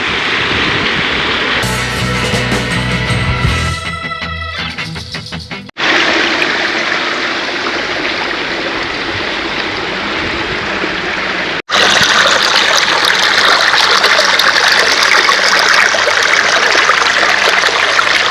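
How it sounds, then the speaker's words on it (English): Water pours steadily down a small waterfall into a stream beside a north cliff walk in India, a loud continuous rush with a couple of brief cuts, heard alone with no voices. "Mini waterfall, stream of water."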